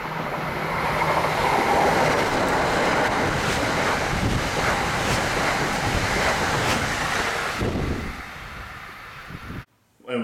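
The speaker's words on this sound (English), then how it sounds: "an electric train comes by, and I think these were MU cars" A fast Metro-North electric multiple-unit train rushes past close by, a loud sustained roar of wheels and wind buffeting the microphone, dropping off sharply near the end.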